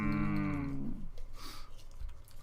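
A person imitates a cow with a long, drawn-out moo that slides downward, loud and close, followed by faint background noise.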